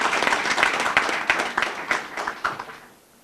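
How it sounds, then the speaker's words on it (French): Audience applause at a ministerial speech in Guinea, a dense burst of clapping that fades out toward the end, fairly close and without talk. "Applaudissez-les, j'aurais bien aimé être avec elles."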